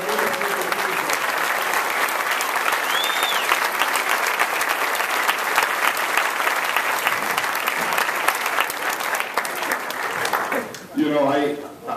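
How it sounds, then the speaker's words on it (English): An audience applauds at an award ceremony, with steady, dense clapping that holds for about eleven seconds. Near the end it thins briefly and then swells again, and a faint voice can be heard beneath it. "So I want to start by having them stand and everybody give them a round of applause."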